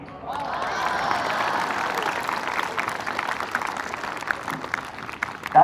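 Moderate applause from a crowd at a school Republic Day celebration, steady clapping that rises at the start and gradually thins out, heard from a distance.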